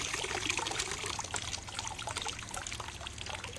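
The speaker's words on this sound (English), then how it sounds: "Let the water drain out." Water trickles and dribbles steadily out of a Water Tech Pool Blaster pool vacuum, a close, continuous splashing drain over a low background hum.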